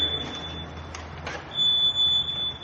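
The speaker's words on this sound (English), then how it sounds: "It's your standard smoke detector here." A shrill, piercing electronic tone sounds from a battery-operated smoke alarm, a faint steady beep first, then a louder sustained shriek near the end.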